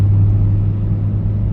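A Chevrolet Camaro ZL1 engine revs while the car struggles through deep snow with no traction, giving a steady, loud, close low rumble that holds evenly for under two seconds with no voices.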